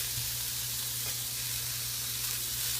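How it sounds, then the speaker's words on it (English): Pork chops sizzling on a Velata raclette grill, a steady close-up crackling fry hiss with a low hum underneath, unbroken throughout. "My pork chops are about half done. I'm going to flip them over."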